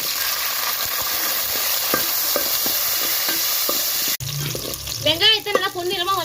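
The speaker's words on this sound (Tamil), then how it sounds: "பூண்டு நல்லா பச்சை வாசனை போற அளவுக்கு நல்லா வதக்கிக்கங்க" Garlic sautés in a pan over a wood-fired stove for a fish curry, with a steady close sizzle punctuated by stirring scrapes and clicks, then a voice talks over the cooking near the end.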